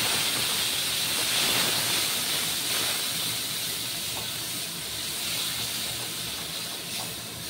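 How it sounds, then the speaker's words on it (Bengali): A paste of ginger, chili, cashew and tomato frying in a pan, giving a steady loud hissing sizzle that holds throughout without pause, close by and with no talk. "এবার আমি ওই আদা, লঙ্কা, কাজু আর টমেটোর যে পেস্টটা করে রেখেছি সেটা ছেড়ে দিচ্ছি"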